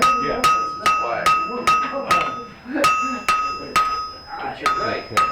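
A blacksmith hammering hot metal as slag comes off: a steady run of a dozen or so sharp, ringing strikes with a lingering metallic tone, close and loud.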